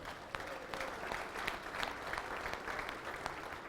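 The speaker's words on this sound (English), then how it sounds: "Give him a round of applause." An audience in a hall applauds a volunteer coming up on stage, a steady patter of many hands clapping at a moderate distance, fairly quiet and continuous throughout.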